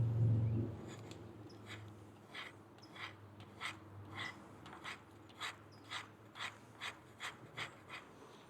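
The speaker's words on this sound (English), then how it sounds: "Let's see how it does scraping regular wood." The spine of a kukri machete blade rasps across regular wood in a steady run of about a dozen evenly spaced scraping strokes, close up with a faint low hum beneath and no talk.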